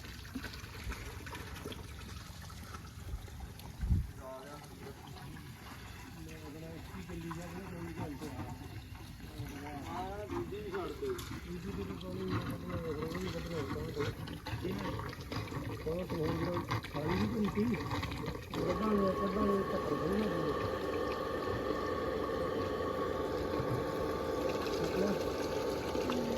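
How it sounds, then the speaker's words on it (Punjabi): Water runs and gushes steadily from a farm water pump while its motor hums beneath it, the flow growing louder and fuller toward the end, with occasional talk. "ਹੁਣ ਆਪਾਂ ਛੱਡਦੇ ਆ ਮੋਟਰ"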